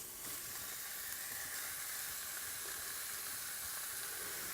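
Minced meat sizzling with ginger in a hot pan for Thai curry puffs, a steady, even hiss of frying that carries on unbroken throughout, fairly quiet and with no voices.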